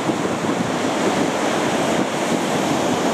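Stormy ocean surf off Cuba crashes and roars in a continuous, dense wash of noise, with steady wind buffeting the microphone throughout and no voices.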